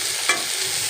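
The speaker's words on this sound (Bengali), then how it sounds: "করলা ভাজিতে নাড়াচাড়া করতেছি।" Bitter gourd and small potatoes sizzle and fry in a pan as they are stirred, with a brief scraping stir sound over a steady hiss.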